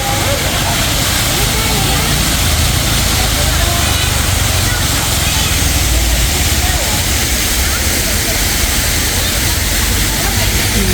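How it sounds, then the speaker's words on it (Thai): The waterfall at Wat Khlong Khwang temple in Thailand roars steadily, a dense continuous rush of water filling the whole stretch without pause. "อันนี้ก็จะเป็นน้ำตกวัดคลองขวางนะคะ"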